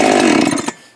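A Husqvarna 372xp X-Torq chainsaw runs loud and close in a brief, harsh engine buzz that cuts off abruptly.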